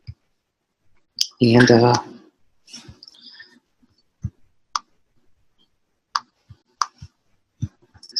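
Computer mouse clicks while editing in iMovie, sharp isolated ticks spaced irregularly through a quiet room, following a brief burst of speech.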